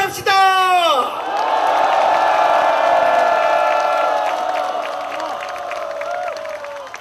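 A large outdoor political rally crowd bursts into applause and cheering, whoops and shouts rising over a loud speaker's call, then a sustained roar of clapping and yelling that slowly fades over several seconds.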